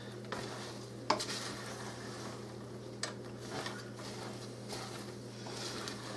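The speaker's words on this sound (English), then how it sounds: "I'm going to keep turning them until I make sure that all of them are coated." A spoon scrapes and clinks against a pan as candied peanuts are turned and coated, sharp metallic taps at irregular moments over a low steady hum, fairly quiet and close.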